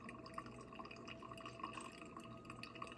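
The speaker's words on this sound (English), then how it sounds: "Nice, slow, spiral pour." Water is poured slowly in a spiral over coffee grounds: a faint, steady trickle with light dripping and splashing, quiet and continuous throughout.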